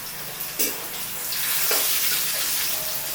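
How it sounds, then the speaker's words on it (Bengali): Onions frying in a pan while cooking a fish curry, a steady hiss and sizzle with a couple of sharp pops and stirring scrapes, close and moderately loud. "পেঁয়াজটা ভাজা ভাজা হয়ে গেছে"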